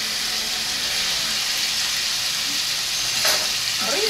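Turkey pieces fry in a pan with a steady, close sizzle and crackle throughout, a brief burst of louder spitting near the end.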